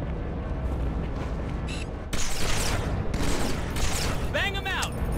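Halo 2 firefight with bursts of gunfire and a dense crackling barrage, punctuated by a sharp whining energy-weapon sweep near the end, loud and close under a chaotic combat mix.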